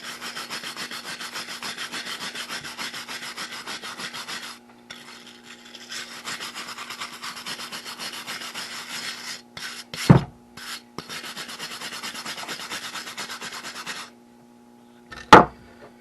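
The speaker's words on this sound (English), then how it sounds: "Get some of that surface rust off." Steady scraping rub of a tool or pad scrubbing surface rust off a magnet fishing magnet in a workshop, continuous strokes with brief pauses and a couple of sharp knocks, close and fairly loud.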